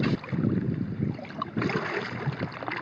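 A Crescent Crew kayak is paddled on a lake, giving soft, uneven watery swishes and splashes in rhythmic bursts over steady wind-like noise, fairly quiet and close.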